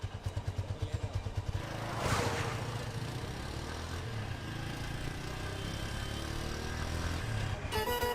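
A motorcycle being ridden, with a rapid pulsing engine beat at first that settles into a steady running drone with some clatter, moderately close.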